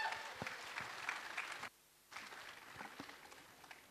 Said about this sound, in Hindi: ताली बजा दो यार.